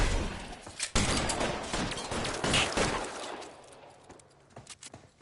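Gunfire in the detective game L.A. Noire: a dense, fairly faint burst of overlapping shots for about three seconds, then thinning to a few scattered, quieter pops.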